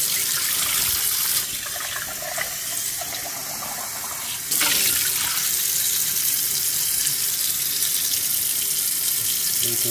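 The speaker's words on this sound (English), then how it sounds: "Now we'll give it a rinse." Tap water gushes into a sink as a thermos is rinsed, a loud, close, continuous splashing that softens briefly, then returns stronger and steady.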